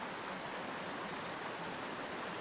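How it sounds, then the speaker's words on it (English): Steady rushing creek water at a trout stream, a continuous broadband wash with no breaks, moderately close and without any talk over it. "I'm putting some creek sounds here from a different part of the video"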